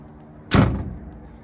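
A foam-filled door on a Can-Am X3 Max side-by-side shuts once with a single close, solid thud that fades quickly, with no talking.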